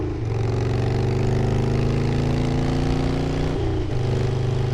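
A Harley-Davidson Sportster motorcycle engine revs loudly and steadily up close, its pitch climbing through a sustained throttle pull before dropping briefly and picking back up, with no talk over it.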